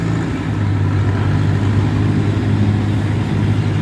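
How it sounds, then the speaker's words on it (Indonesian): A large barge tugboat's big engine rumbles steadily and loudly up close, a deep continuous drone with no break and no voices. "Nah ini besar sekali kelihatannya mesinnya ini. Suaranya gemuruh"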